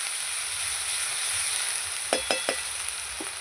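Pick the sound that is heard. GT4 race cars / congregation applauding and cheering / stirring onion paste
stirring onion paste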